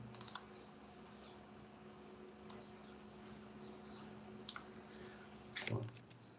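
Computer keyboard keys pressed for a Ctrl C copy shortcut. A few sparse, faint clicks in a quiet room, with no talking.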